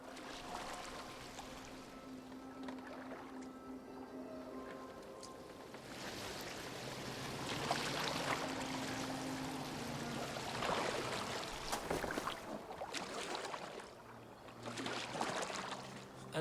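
A boat moving over water in the video game Assassin's Creed Valhalla, a soft, continuous wash of water and hull sounds with gentle swells and splashes. Faint background noise runs throughout.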